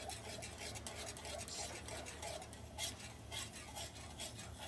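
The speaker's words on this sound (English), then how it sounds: "So we're gonna whisk here. We're whisking." Soft cereal is whisked in hot water, making a continuous quiet scraping and swishing in a pot, with a few slightly louder strokes and no talking.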